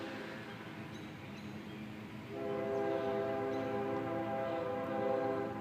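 A train draws near at dusk as a railfan watches trackside; rumble builds, then a loud, steady multi-tone horn blares from about two seconds on and holds, close and swelling to the end.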